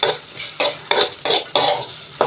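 Ridge gourd peel being sautéed in a little sesame oil, with five or six quick, close spatula strokes scraping and stirring over a soft sizzle in a regular rhythm.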